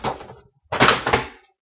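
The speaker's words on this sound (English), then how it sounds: "Of course, I knocked it over again." A Para Zord toy knocked over, a close burst of clattering thumps with a short second impact cluster lasting about half a second.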